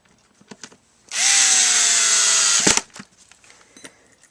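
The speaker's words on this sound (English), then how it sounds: "I'm only screwing into plastic, remember." A Makita FD05 12V two-speed drill whines steadily for about a second and a half while driving a screw into plastic, then stops with a brief clutch click, close and loud, amid faint handling clicks.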